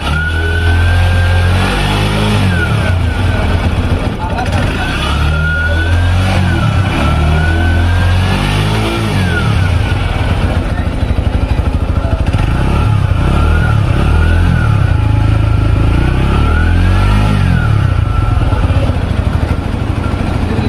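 A small 110cc motorcycle engine idles and revs repeatedly up and down, its exhaust loud and close, with a rough mechanical clatter throughout.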